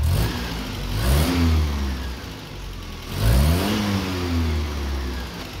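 A warmed-up Land Rover 2.25 petrol engine runs close by, with a steady low mechanical rumble and two brief revs that rise and fall, and no speech.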